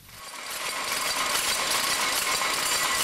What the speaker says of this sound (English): we can see the working of the Cowburn and Peck's drop box motion